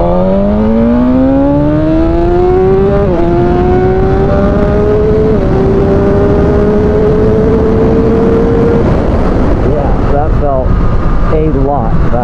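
A 2020 BMW S1000RR motorcycle screams through the gears, its engine note climbing loud and steady with brief dips at each upshift, then turning rougher and choppier toward the end.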